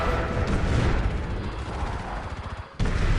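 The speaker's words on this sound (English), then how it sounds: "So my 2 Zeus are firing onto the assault vehicle factory" Zeus artillery units in a real-time strategy game pound an assault vehicle factory with a continuous, dense barrage of heavy booming blasts that rumble throughout, briefly dipping before surging again near the end.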